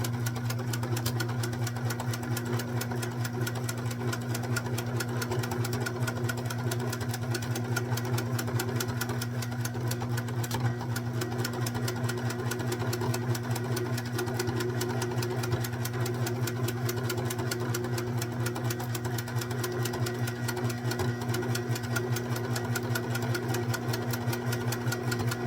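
A sewing machine stitches pin tucks on a baby bonnet, a steady close mechanical hum with fast even needle ticking that runs without a break.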